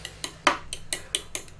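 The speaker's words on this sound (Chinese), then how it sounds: "来，我们搅久一点，我们搅拌久一点。" A spoon stirs vegan coffee made from convenience-store ingredients in a cup, producing a quick, regular series of bright metallic clinks against the cup, close and clear.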